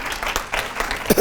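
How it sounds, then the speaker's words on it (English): Audience applause at a convention talk, a short burst of dense clapping with some louder hand claps near the end. "a big hand of applause"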